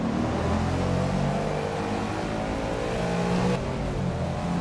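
Stock cars race at Grand Oak Raceway in the video game Forza Motorsport, with a loud, continuous engine drone rising and falling in pitch and tire and road noise underneath, no talking.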